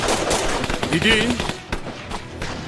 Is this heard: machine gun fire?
yes